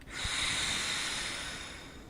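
One long, loud inhalation through a Delta V breathing trainer set at 4 or 5 makes a close, hissing, airy draw that slowly fades toward the end, with no talking.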